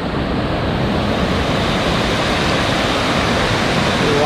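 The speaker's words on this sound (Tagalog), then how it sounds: "ito yung falls." Vera Falls on Mt. Malinao in Albay pours down in a constant, loud, broadband rush of falling water, steady throughout and heard close up with no voices.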